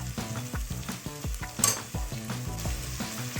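Potatoes sizzle and fry in a pan for vegetable pulao, a dense crackling hiss with repeated scraping stirs in a loose rhythm, close and steady, with no voices.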